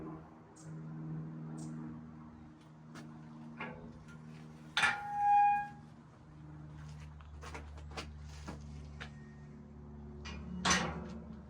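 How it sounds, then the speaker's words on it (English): A modern church lychgate built in 1991 at St Bartholomew's creaks open with a single squealing creak midway, set in quiet outdoor ambience with scattered small clicks and a faint hum. "It has a nice creaking gate"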